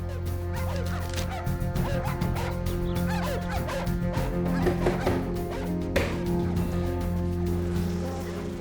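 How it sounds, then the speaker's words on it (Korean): Two dogs tied in a yard of a southern town bark frantically in repeated sharp bursts, mixed with clatter and other commotion over a constant low hum. "갑자기 개들이 미친 듯이 짖어댑니다."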